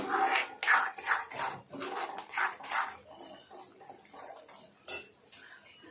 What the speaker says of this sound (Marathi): आता हे चांगलं मिक्स करून घेऊया